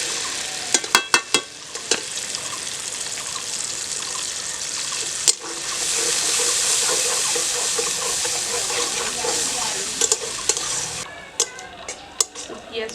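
Onion paste stir-fried in a pan. Close, steady sizzling and stirring, with sharp clinks of a spatula against the pan near the start and end and a louder hiss surge midway.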